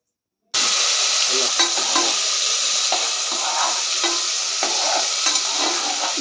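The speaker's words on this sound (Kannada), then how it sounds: "ಟೊಮೆಟೊಲ ಸ್ವಲ್ಪ ಕಲರ್ ಬರೋವರೆಗೂ ಫ್ರೈ ಮಾಡ್ಕೋಬೇಕು" Tomatoes frying in hot oil in a pan while cooking chicken sambar, a steady close sizzle that starts abruptly and carries on with occasional stirring scrapes and clicks, no voices.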